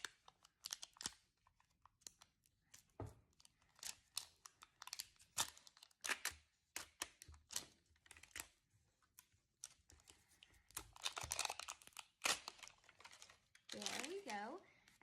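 Plastic and foil wrapping of an L.O.L. Surprise toy ball is torn, crinkled and unzipped in quick bursts of rustling and crackling, close and fairly quiet, with brief pauses between handling sounds.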